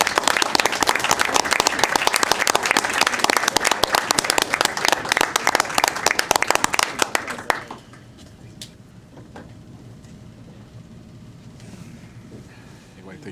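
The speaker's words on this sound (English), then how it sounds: "So how about we all give him a round of applause one more time?" An audience at a board of education meeting gives a sustained round of applause, loud and dense, for about eight seconds. It then drops off to a quiet room with scattered sounds and a few faint voices.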